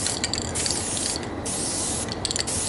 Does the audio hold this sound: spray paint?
yes